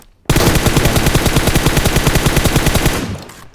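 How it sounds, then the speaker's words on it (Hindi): A player in the video game PUBG fires into the air, producing a sudden, sustained burst of rapid automatic gunfire with evenly spaced shots for about three seconds before it stops abruptly; loud, close and alone with no talking. "ये मेरे को गोली मारने के बजाय सामने हवा में मार रहा है गोली"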